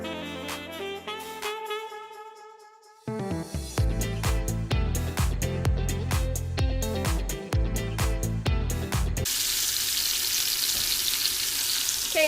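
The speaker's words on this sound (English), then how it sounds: "I'm gonna brown 2 pieces at a time on all sides until they're completely browned." Beef pieces browning two at a time in an Instant Pot for barbacoa, a loud steady sizzle that jumps up about three seconds in and then turns into a broad hiss, with music-like tonal layers running underneath.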